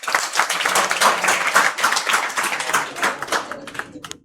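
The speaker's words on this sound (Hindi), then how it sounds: "इसके लिए तालियां बजाइए।" An audience claps for a student topper at an awards ceremony, dense, steady applause lasting several seconds before tapering off abruptly at the end.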